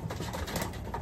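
A racing pigeon from a Florida pigeon derby coos softly in a brief low murmuring call, heard close and alone.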